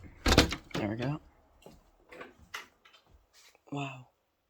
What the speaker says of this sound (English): This door's stuck. There we go.